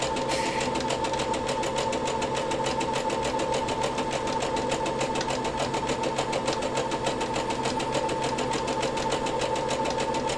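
A sewing machine runs steadily, stitching fabric with a fast, even rhythmic patter that continues unbroken at moderate volume from start to finish.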